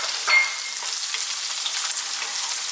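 Onion frying in a pan over medium heat gives a steady, close sizzle with light scraping stirs throughout, no talking.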